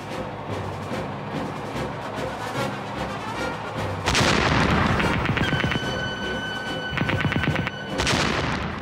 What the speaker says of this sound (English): Finally, they spotted the enemy, halted, and opened fire.